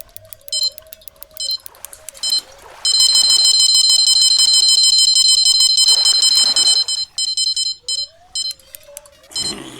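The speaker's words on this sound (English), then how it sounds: "I know the rod that's beeping is my little lightweight number 4" Fishing rod bite alarm in the Fishing Planet video game at Falcon Lake, Oregon, sounding as loud electronic beeps, first in short bursts, then a long continuous run, then choppy repeated pulses, with faint water and reel noise beneath.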